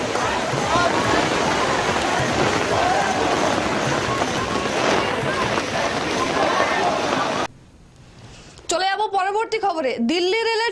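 Heavy rain pours at an outdoor protest by junior doctors in front of a health office building, a dense, steady roar of downpour that cuts out near the end before a voice speaks.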